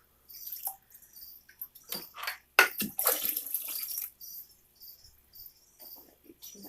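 Water trickles and splashes into an Exoterra FX-350 turtle filter as it is primed, in irregular gurgling bursts and drips with brief pauses, close and moderately loud, with a short spoken word near the start.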